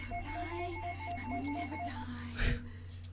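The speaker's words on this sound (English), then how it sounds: "as the phone in the background" A telephone rings in the background with a repeated electronic trill, steady and moderately faint, over a low hum, followed by a brief louder thump near the end.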